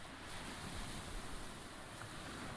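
Ocean surf in the video game The Pale Beyond washes in as a steady, soft rush of waves with a wind-like hiss throughout, fairly quiet and with no talking.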